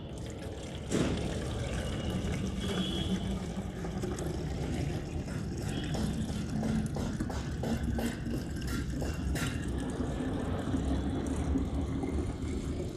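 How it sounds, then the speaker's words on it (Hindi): Water pours into a sprayer holding a neem leaf organic pesticide mix. It makes a steady, continuous rushing and trickling noise with faint drips, close by and moderately quiet, for the whole stretch. "इसके बाद फिर आप इसमें पानी मिलाएं।"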